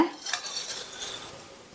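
A spoon scrapes and clinks in a bowl while stirring sweet idiyappam stuffing made with jaggery, a short, close, light mixing sound with no talk.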